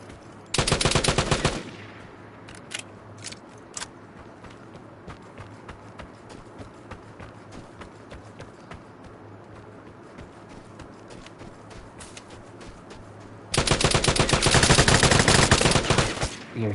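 Loud bursts of rapid automatic gunfire from a video game open and close the moment, with faint scattered game sounds between them.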